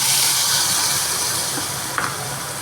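Ground paste of ginger, garlic, chilli, tomato and poppy seed hitting hot oil in a wok after bay leaf tempering, a loud, continuous sizzling hiss close up, with a small clink near the end and no talk.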